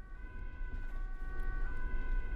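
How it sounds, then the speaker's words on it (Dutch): An ambulance siren sounds steadily in the distance, its sustained tones layered over a low rumble of traffic, with no voices. "De ambulance brengt het slachtoffer naar het ziekenhuis."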